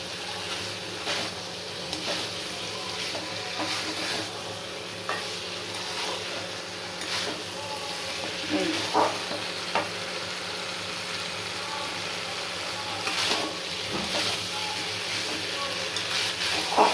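Water poured into a hot pan of food set for a festive Bengali dish, hissing and sizzling steadily while a spoon stirs and scrapes with intermittent clinks, fairly close and moderately quiet.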